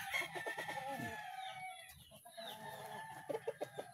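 Rooster crowing with chickens clucking around it on a farm, the crow rising clearly over steady close-by clucks and scattered bird calls, no talk.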